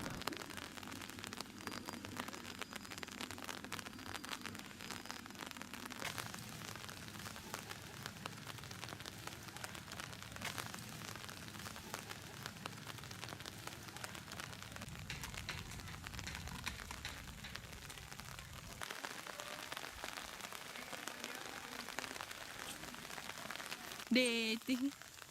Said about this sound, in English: Soon, it began to alternate between drizzle and heavy rain.